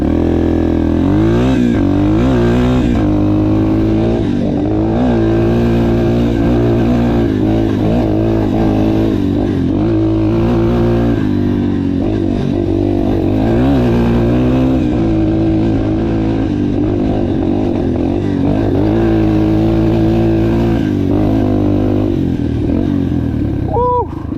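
An uncorked, rejetted Yamaha TTR230 dirt bike engine revs hard while riding a trail, a loud, close, continuous buzzing roar that rises and falls with throttle changes throughout.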